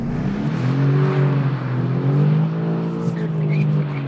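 A BMW M5 Competition engine pulls hard in second gear on a racetrack, its loud steady drone rising and holding close up inside the cabin, with no talk over it.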